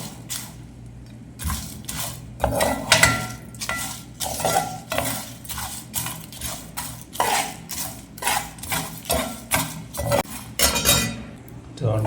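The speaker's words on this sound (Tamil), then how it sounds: "ஸோ இந்த மாதிரி வறுத்துக்கலாம் அப்போதான் கொஞ்சம் நல்லா டேஸ்ட்டாக இருக்கும்" Biryani masala spices dry-roasting in a pan, with a utensil scraping and stirring in a steady repeated rhythm and a faint sizzle underneath, close and fairly loud.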